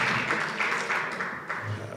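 Audience applause at a Shabbaton gathering with Yeshiva University students in Crown Heights, a steady patter of clapping hands continuing throughout, moderately loud with some scattered taps.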